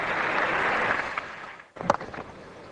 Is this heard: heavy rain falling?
no